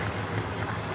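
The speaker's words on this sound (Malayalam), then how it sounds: "തിളക്കട്ടെ." Chicken curry bubbles in a pot at a home stove with a soft, continuous boiling burble, close and low in level, lasting about a second with no talk.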